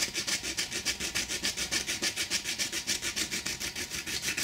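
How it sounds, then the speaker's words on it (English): Steady back-and-forth sanding strokes on a plastic sheet, a quick even rhythm of light rasping passes, close and continuous with no talking. "I just give it a light sanding down to the pencil line for the perfect match"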